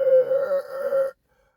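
A voice imitates a burping snore, a drawn-out groaning rasp with a wavering tone that cuts off abruptly, followed by near silence.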